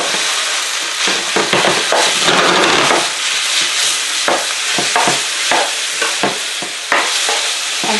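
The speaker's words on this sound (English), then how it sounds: "Saute for about a minute or two. And add the sweet potato vermicelli." Sweet potato vermicelli stir-fried with garlic in a hot pan, loud close sizzling with continuous scraping and tossing strokes of a utensil, no voices.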